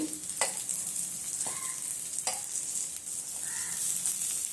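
Prawn vadas fry in hot oil with a continuous soft sizzle, broken by a few sharp crackling pops, heard up close and without talk.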